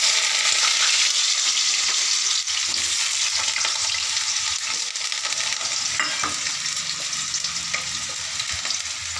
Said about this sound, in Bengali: আর সঙ্গে দিলাম বেগুন। এগুলো এবার আমি ভাজতে থাকি।